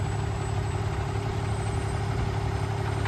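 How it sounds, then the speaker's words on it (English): A 2018 Peterbilt 579 tandem-axle truck with a 425-horsepower Cummins engine and automatic transmission idles close by, a steady low rumble with constant vibration and no change over the few seconds. "nice 2018 Peterbilt 579. Got the Cummins engine in it, 425 horsepower, tandem axle truck."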